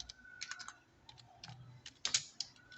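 A computer keyboard being typed on at a desk: short, soft clusters of key taps with brief pauses between them, close and fairly quiet, with no voices.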